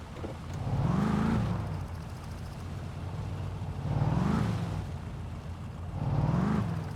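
Car engine in the My Summer Car game, loud and steady at close range, revving up in three swells, each rising and falling over about a second, with an idling drone between them; no talking.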